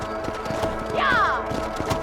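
Horse hooves clip-clop steadily in Red Dead Redemption on a ranch, a rhythmic moderate thudding beneath a constant game soundscape, with a brief rising whinny-like cry in the middle.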